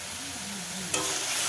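Spice paste for chital fish kalia frying in oil in a pan, a steady close hiss of sizzling with a short scrape of stirring near the end.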